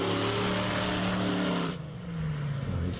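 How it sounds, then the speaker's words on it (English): Podzilla, a monster truck performing at the Bug Jam drag racing event, drones and revs in the background, its loud engine tone rising and shifting before easing into a lower, steadier pitch. "You can hear Podzilla, the monster truck, running in the background at the moment."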